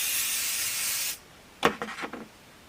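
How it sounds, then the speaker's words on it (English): Adhesive spray is applied onto quilt batting in one steady hissing burst lasting about a second, followed by a few brief rustling rubs of fabric, close and quiet, with no talk. "I know how big an area to spray on my batting and I don't have too much overspray. And then I spray."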